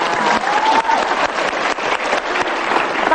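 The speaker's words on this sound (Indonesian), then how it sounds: "Aplaus buat kita semua." A studio audience claps together at a televised talk show in Indonesia, producing a dense, steady round of applause that carries on for several seconds.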